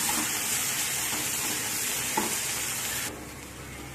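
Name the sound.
frying masala with cashew and poppy seeds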